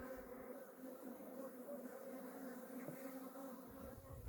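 Honeybees hum around an opened beehive recently split from a swarm, a soft, steady, low drone with no breaks, heard fairly faint and close.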